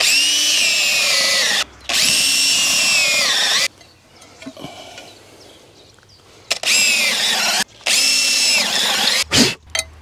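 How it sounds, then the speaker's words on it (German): A power drill drilling into a metal fence post whines loudly in two long bursts, with a quieter pause of scuffing and handling noises in between and a few short blips at the end. "Beim Bohren aufpassen, dass man mit der Bohrspitze und den Schneiden nicht ins Metall kommt"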